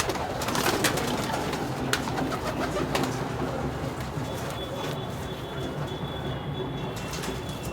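Red pigeons kept for competitive flying coo and rustle amid a dense, steady outdoor background, with scattered wing flaps and soft clicks; the birds sound close but are partly masked by the broad ambient noise.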